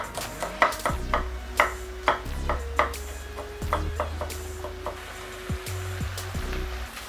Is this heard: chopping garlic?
yes